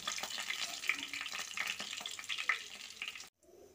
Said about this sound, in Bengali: এরকম একটু হালকা করে ভেজে পনিরগুলোকে তুলে নিচ্ছি